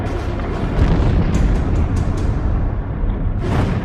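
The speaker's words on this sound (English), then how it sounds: "The explosions miss Nautilus, but the sub takes no chances and dives temporarily." Deep, booming explosions erupt near the US submarine Nautilus during the Battle of Midway, a heavy, continuous rumble with several sharper bursts across the stretch, loud and close.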